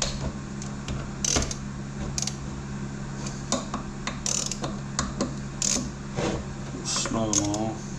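A ratchet wrench clicks in short bursts while snugging engine bolts to torque on a Kubota D1105 diesel rebuild, close and metallic, with someone talking throughout.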